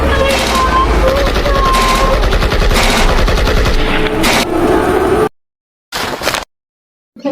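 Loud, sustained automatic gunfire and rapid shots fill a dramatized film scene, dense bursts running for several seconds before cutting to silence, then a brief final burst.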